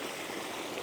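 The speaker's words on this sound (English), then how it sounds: "We got the combination of the discharged swamp water hitting the overflow and the water off the pond." Water from a pond and discharged swamp water pours over an overflow, a steady, even rushing wash, fairly faint and continuous throughout.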